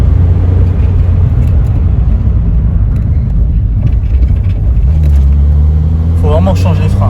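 Peugeot 106 engine running and revving during a passenger-side driveshaft job, a loud close rumble that rises and surges toward the end, with someone talking over it.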